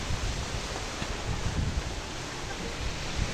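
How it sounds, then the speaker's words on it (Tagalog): Strong typhoon wind roaring steadily past the microphone in a yard beside a mango tree, a dense continuous rush with gusty buffeting and rustling, loud and unbroken. "ang lakas ng hangin, eh"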